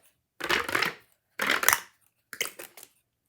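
Three separate crunchy pressing sounds of a hair crimper pressing hair, close and fairly quiet, each lasting about half a second with short pauses between.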